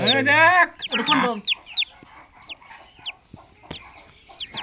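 Chickens cluck and squawk up close, a loud burst of calls at the start followed by scattered short clucks and chirps against quiet.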